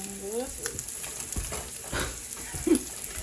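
Ham sears in a frying pan with a soft, steady sizzle and occasional stirring scrapes, fairly quiet and close, with no talk.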